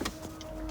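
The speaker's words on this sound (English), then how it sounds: "you'll hear step motors in this area, down here, and even behind you in the back that are all resetting" Car stepper motors resetting inside the cabin, a faint whirring buzz with a steady tone and small clicks, heard close in a quiet interior.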